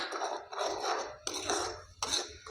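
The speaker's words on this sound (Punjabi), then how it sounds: "ਇਹਨਾਂ ਨੂੰ ਆਪਾਂ ਹੁਣ ਚੰਗੀ ਤਰ੍ਹਾਂ ਤੜਕੇ ਦੇ ਵਿੱਚ ਮਿਕਸ ਕਰਕੇ ਤੇ ਟਮਾਟਰ ਨੂੰ ਆਪਾਂ ਚੰਗੀ ਤਰ੍ਹਾਂ ਭੁੰਨ ਲਾਂਗੇ" Spices and tomato are stirred and roasted in the hot oil of a tempering in a pan, for a radish-leaf vegetable dish. Three close scraping strokes of a spoon against the pan sound over a soft sizzle, with no voices.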